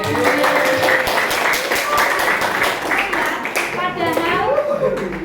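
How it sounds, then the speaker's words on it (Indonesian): Students clapping in a classroom, scattered and uneven under loud overlapping chatter and children's voices that dominate throughout. "Oke, tepuk tangan."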